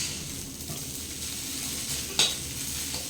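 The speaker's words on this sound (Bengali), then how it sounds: "বন্ধুরা, চাউমিন রান্না চলছে" Chow mein frying and being stirred in a pan, a steady close sizzle with a single sharp scrape of a utensil against the metal partway through.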